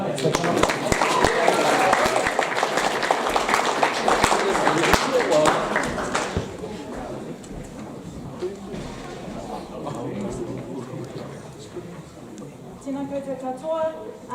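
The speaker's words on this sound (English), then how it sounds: "Let's give them a quick clap." A school assembly audience at Porirua College claps loudly for several seconds, then the applause cuts off sharply and a speaker's amplified voice continues over the hall.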